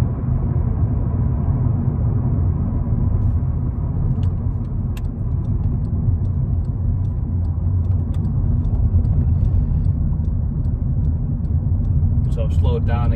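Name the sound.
VW Golf with faulty automatic gearbox driving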